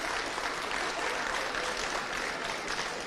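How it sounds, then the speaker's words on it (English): A crowd at the All-Ireland U23 Championship final between Cork and Galway at a Limerick GAA ground claps in a broad, steady wash of applause that stays level and unbroken throughout, without voices over it. "I'd like a round of applause, please, for all involved in Limerick GAA and Toos Gaelic Park for the cooperation with us."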